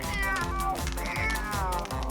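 Kitten meowing repeatedly in a doll-craft play scene set aboard an airplane, several drawn-out, wavering meows close and loud over a dense background of music and noise.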